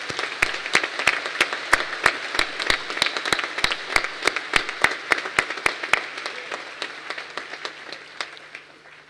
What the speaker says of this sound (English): Let's give them another round of applause as they now leave the hall.